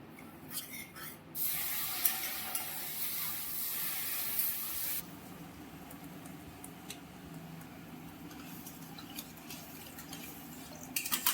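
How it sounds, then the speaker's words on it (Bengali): Water poured into stirred semolina (suji) in a pan for a spicy vegetable suji dish, a loud hissing, spraying rush lasting a few seconds, then settling into quieter bubbling with faint ticks. "নাড়ানো হয়ে গেছে সুজিটা, এবার জলটা দিয়ে দেবো আমরা।"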